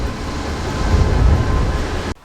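A train rumbles past right behind a Florida trailer park, a loud, sustained low roar of rolling cars and rail noise that swells in the middle and cuts off abruptly near the end.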